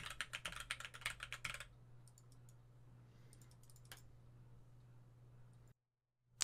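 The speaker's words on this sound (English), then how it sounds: "I'm going to throw some mouse clicks and some keyboard clacks in here" Rapid keyboard typing for about a second and a half, then a few isolated clicks over a low steady hum.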